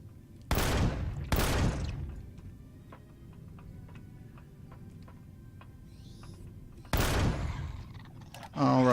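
Gunfire in the survival game Empyrion: Galactic Survival, heard as a few loud broadband shots roughly a second apart, then a quieter stretch and more shots near the end.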